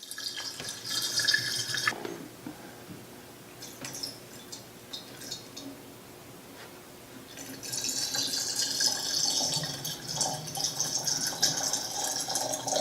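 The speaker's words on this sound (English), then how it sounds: "as you fill the machine, you'll notice that the water line will start to come up on your sight glass here" Water pouring and trickling into the reservoir of a BG service machine, a steady splashing fill that grows louder and brighter in the second half, with no talk.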